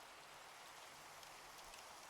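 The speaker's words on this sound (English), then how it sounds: "Rain go away?" Rain in Minecraft falls as a soft, even hiss of steady drops, faint and continuous with no voices over it.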